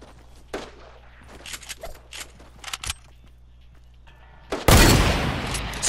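Near the end, a hunting rifle in a video game fires a loud burst that dominates the sound. Before it, scattered light clicks and footstep-like taps sit over a low hum.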